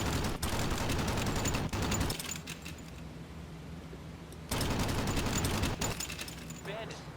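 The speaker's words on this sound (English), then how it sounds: "Maybe with the flak coming in," Flak fire in B-17 Flying Fortress: The Mighty 8th Redux, around a World War II bomber: dense, loud bursts of rapid firing in two long stretches separated by a quieter gap of engine drone, with voices faintly present.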